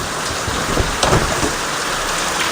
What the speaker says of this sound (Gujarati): જો ભાઈ અત્યારે વધી ગયો છે વરસાદ.